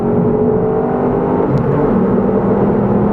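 Ford Fiesta ST hot hatch engine running with a steady, loud whirring drone and low rumble throughout, no speech over it.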